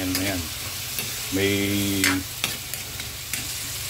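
Pakbet vegetables are stirred in a sizzling pan, with a spatula scraping and clattering in a few bursts over steady frying crackle, close and fairly loud.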